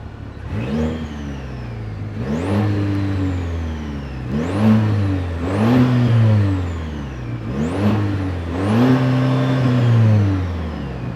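A 2026 Chevy Colorado Trail Boss with the turbocharged 2.7-liter Turbo Max four-cylinder revs up and settles about five times in a row. The engine is loud and close, each rise climbing sharply before falling back to idle.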